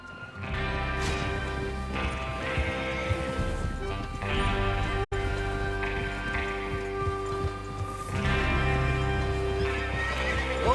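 In the video game Red Dead Redemption 2, horses whinny loudly several times over steady clip-clopping hooves, with a rumbling background and a brief sharp crash midway.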